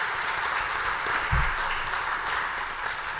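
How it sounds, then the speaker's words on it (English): An audience at a management consulting panel event applauds the panelists with steady, moderately loud clapping, with a brief low thump partway through. "Let's give a round of applause to the panelists."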